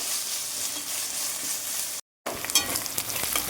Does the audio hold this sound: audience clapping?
no